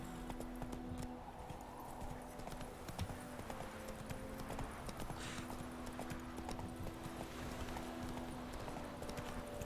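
Roach, Geralt's horse in The Witcher 3 on a wintry road, gallops with a steady, continuous clip-clop of hooves under game music and ambient sound, fairly quiet overall.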